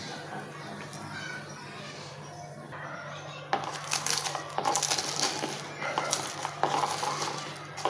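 Boiled potatoes are mashed by hand into a paste, with soft squishing and crushing noises that grow louder and more frequent in the second half, close and under a low background hum.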